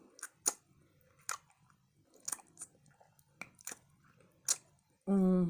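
A gyro is chewed during a mukbang eating session, with sharp, wet crunching bites repeated at an irregular rhythm, close to the microphone, and a brief voiced hum at the end.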